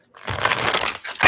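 Tarot cards being shuffled close up, with a brisk papery rustle lasting about a second and a brief second burst at the end, and no voice.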